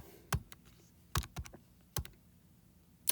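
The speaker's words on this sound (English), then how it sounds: "I'm just going to type all that into my calculator." Calculator keys tapped to enter numbers, a few close clicky presses spaced unevenly, some in quick pairs, in a quiet room with no talk.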